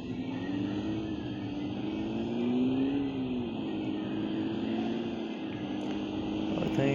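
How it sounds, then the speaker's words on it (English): Aircraft engine in the video game PUBG Mobile, a steady droning hum that holds throughout at an even, fairly loud level, swelling slightly near the middle and again toward the end. "I think that's the aircraft sound."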